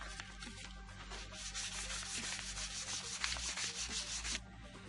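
Fine 800 and 1000 grit sandpaper rubs over scratched motorcycle handguards in a quiet shop, a continuous close sanding hiss with quick back-and-forth strokes that stops abruptly near the end.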